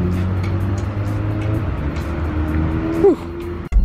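A car being driven with a steady engine drone and road noise that shifts pitch partway through, ending with a brief louder burst.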